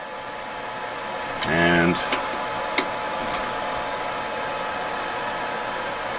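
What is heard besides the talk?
hot air rework nozzle blowing on laptop GPU chip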